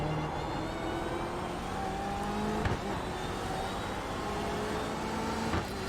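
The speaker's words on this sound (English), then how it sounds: "So braking just between the 4 and the 3, down 3 gears into second gear." BMW M8 GTE race car in the iRacing game at Sebring, engine droning steadily and close as it brakes and drops three gears into second, with brief blips on each downshift.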